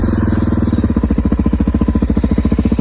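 A 2016 Suzuki DRZ400SM motorcycle with 75,000 miles and an FMF exhaust cranks briefly, then fires into a loud, close, rapid single-cylinder thumping idle.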